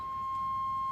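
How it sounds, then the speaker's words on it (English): A single steady electronic warning tone from a third-generation Chevrolet Camaro sounds continuously, a thin beep held with no other sounds around it. "Sorry for the beeping, that's just a 3rd Gen Camaro thing,"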